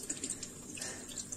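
Tap water runs steadily into a kitchen sink while bananas and apples are washed, a soft continuous splashing hiss at moderate distance with no one speaking.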